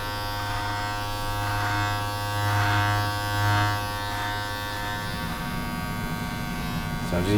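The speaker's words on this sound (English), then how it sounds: "So I'm just gonna use the heel of the clipper to kind of baseline on your face, and then just follow that natural shape of the beard's got." An electric hair clipper buzzes steadily while trimming a beard, a close, continuous hum that swells slightly as the blades move through the hair, with people talking throughout.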